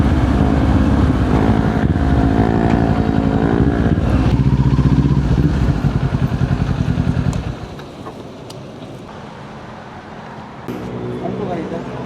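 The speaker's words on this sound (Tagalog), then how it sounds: "kahit gaano katahimik yung motor mo, maingay pa rin siya kapag umaga" A Kawasaki Z400 motorcycle idling and warming up on a morning ride, its loud, steady engine rumble close by, then dropping to a quieter idle partway through, with voices talking over it.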